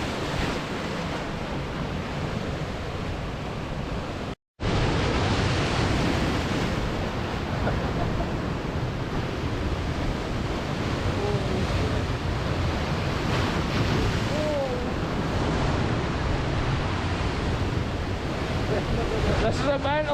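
Sea waves crash and surge against a wild coastline, a loud, continuous roar of surf mixed with heavy wind buffeting the microphone, broken by one brief dropout near the start.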